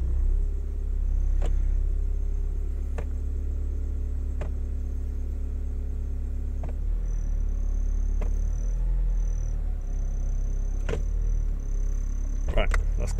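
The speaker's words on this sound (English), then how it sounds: "they just put the car in all of its gears and they swap it around a bit" A Honda Fit (Jazz) with a CVT gearbox idles with a deep steady rumble while being shifted through its gears, with occasional clicks and clunks, close by and continuous.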